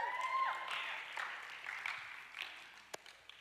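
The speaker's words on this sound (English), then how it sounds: "That wasn't a very big clap." A small home audience gives a brief, thin round of clapping, fairly close and modest in volume, fading out over a few seconds with a couple of isolated late claps.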